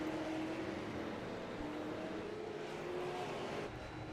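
Super late model race car engine heard onboard during a winter series round at Concord, a steady loud droning roar with slight pitch shifts as it works around the track, continuous and close.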